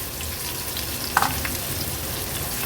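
Gentle continuous sizzling of finely chopped onion frying in oil, with a brief clink of a utensil partway through.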